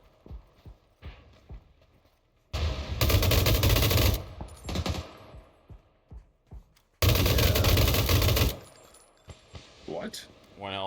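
Automatic gunfire from a PUBG match, with two long, loud, sustained bursts separated by quieter stretches full of short clicks and impacts, while voices talk intermittently throughout.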